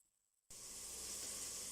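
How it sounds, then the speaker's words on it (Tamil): Chopped onions sautéing with salt in a pot for one-pot chicken biryani: after half a second of near silence, a sudden loud, steady sizzle of frying takes over and holds evenly to the end, with no talk. "அனியன்ஸ் வதங்கட்டும்."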